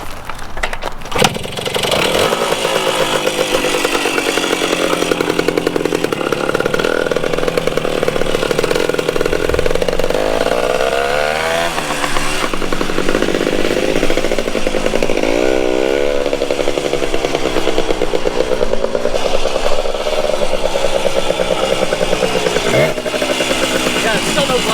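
Yamaha Enduro 125 dirt bike running after a rolling start with a faulty clutch, its loud buzzing two-stroke engine revving and wavering steadily, with people talking over it.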